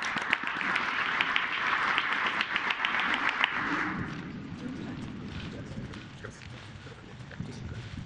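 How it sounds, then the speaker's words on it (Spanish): An audience at a commission meeting on a minimum wage increase applauds loudly and steadily for about four seconds, then the clapping fades into a lower murmur of room noise and scattered voices. "Un aplauso."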